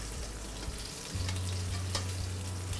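Monkfish fillets sizzle in a hot pan for piccata, a dense continuous crackle and hiss with a low steady burner hum underneath, close and without any voices.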